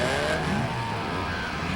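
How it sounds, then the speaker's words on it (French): Roaring race car engines rev together in a continuous, loud, dense drone, the sound of a starting grid at full throttle with no voices over it. "Faites démarrer vos moteurs."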